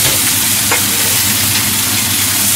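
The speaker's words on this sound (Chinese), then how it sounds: "我哋爆一爆啲洋葱，等啲洋葱色出香" Onions stir-frying in a pan for a potato chicken curry, a loud, steady sizzle filling the whole stretch with no gaps and no voices.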